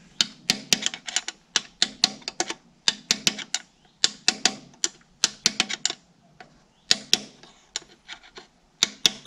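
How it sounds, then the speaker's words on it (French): Light hammer taps seat a bearing in a Massey Ferguson tractor differential, a quick series of small sharp metallic knocks in irregular bursts, close and alone. "Vous donnez des tout petits coups et ça rentre tout seul."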